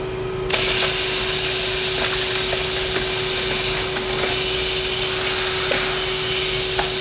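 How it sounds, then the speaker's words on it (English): Compressed air blasting loose rusty debris out of the rocker panel of a 1969 Pontiac GTO convertible. A loud, steady hiss starts abruptly and continues alone, with faint rattles and taps mixed in. "This is a 6-minute video so far of you blowing out one rocker panel"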